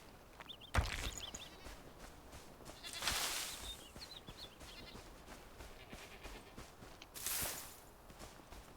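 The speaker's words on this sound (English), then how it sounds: "Oh, we've got goats." Goats in the video game Enshrouded bleat a few times, spaced out over a soft background of rustling and light footsteps.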